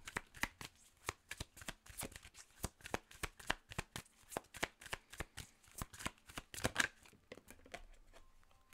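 A deck of oracle cards being shuffled by hand, with a quick run of crisp riffling snaps and flicks at a steady rhythm, close and soft, with no talk.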